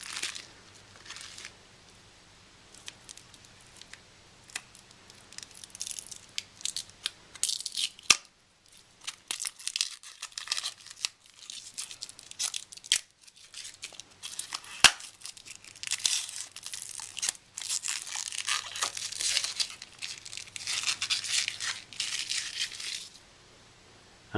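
Plastic wrapping being pulled off a refurbished first-generation Apple iPod nano: close, scattered crinkling and tearing in bursts across the whole stretch, with a brief quiet pause partway through and no talk.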